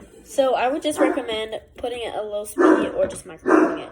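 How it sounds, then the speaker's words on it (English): A pet dog barks indoors in a home kitchen while a grilled cheese sandwich is being made; the short barks are mixed in under a person talking steadily. "Sorry about my dog. He is barking."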